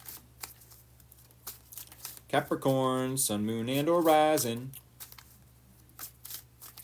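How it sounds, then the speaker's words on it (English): Tarot cards are shuffled back into a deck with soft riffling and crinkly flicks, close and fairly quiet, while someone speaks over the middle of it. "As I shuffle the cards back into the deck."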